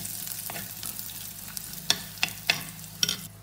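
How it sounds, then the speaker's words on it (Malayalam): Shallots and curry leaves sautéing in a pan, a soft continuous sizzle broken by several sharp scraping stirs of a spoon, close and alone without speech. "ഇതിലോട്ട് കറിവേപ്പില ചേർത്ത് ഒന്നുകൂടെ വഴറ്റിയെടുക്കാം"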